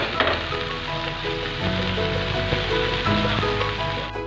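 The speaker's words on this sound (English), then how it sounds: "Place it on the tawa, let it become crispy." Wheat flour roti crisping on a hot tawa, a loud, steady sizzling hiss close by, with some faint tonal background hum underneath.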